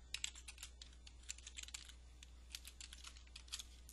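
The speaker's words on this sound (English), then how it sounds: "I'm just typing that in so you'll see what it'll look like" Steady typing on a computer keyboard during data entry, with quick irregular key clicks in bursts and brief pauses, heard close and fairly quiet over a low electrical hum.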